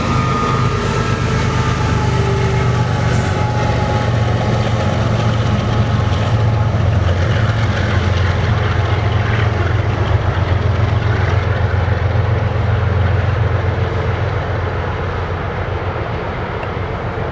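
A BNSF mixed freight train heading eastbound near Railroad and Trent Ave., a loud, steady rumble of locomotive and rolling cars that holds constant throughout.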